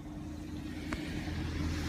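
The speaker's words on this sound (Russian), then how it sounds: "Едет машина." A car drives past on a city street at night, a low steady engine and tire hum that grows gradually louder as it approaches, with a brief faint click midway and no talk.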